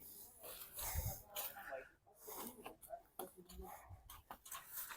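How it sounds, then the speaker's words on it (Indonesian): Heavy, irregular panting from a person worn out after threshing corn with a large corn threshing machine: close, faint, ragged breaths mixed with quiet talking. "Ngos-ngosan ini"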